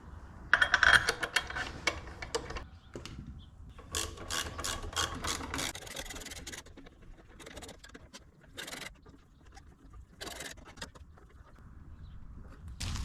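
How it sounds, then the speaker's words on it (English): A 3/8 socket wrench tightens six clutch plate bolts on a clutch kit install, with bursts of fast ratcheting clicks separated by short pauses and light handling noises, fairly close and without speech. "and then you can take a socket. Again, it's going to be a 3/8 socket,"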